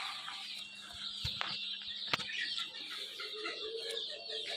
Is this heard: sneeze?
no